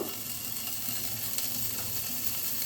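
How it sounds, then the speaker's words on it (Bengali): Potatoes frying in hot mustard oil with a little salt, a faint, even sizzle with a few light mechanical clicks, close and steady, no talking. "এখানে অল্প করে সর্ষের তেল দিয়ে দিচ্ছি তেলটা গরম হয়ে গেছে অল্প একটু নুন দিয়ে দিলাম দিয়ে আলুগুলোকে ভেজে নেব"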